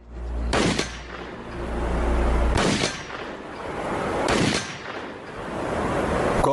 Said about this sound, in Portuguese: Vamos dar alguns tiros aqui e ver qual a velocidade da munição.